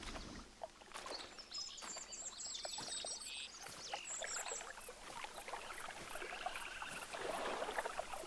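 Flowing water in the hunting game Hunter Call of the Wild runs as a steady broadband rush, with bird chirps and calls scattered over it, moderately loud and continuous throughout, with no voices.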